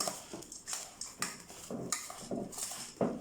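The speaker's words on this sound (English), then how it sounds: "Mix it thoroughly." A spoon scrapes and clinks in a pot while masala mudi, a puffed rice mixture, is stirred and mixed, producing a string of soft, irregular metallic taps and scrapes at close range.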